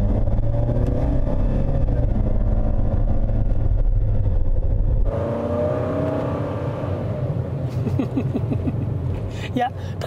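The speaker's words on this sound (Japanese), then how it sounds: "いや確かにね元気にエンジンは回るけれどもシフトショックが大きいですね" A Toyota HiAce Wagon's 2.7-litre engine revs steadily with a drone, then drops in pitch as the automatic transmission changes gear with a noticeable shift shock and climbs again, with someone talking over it.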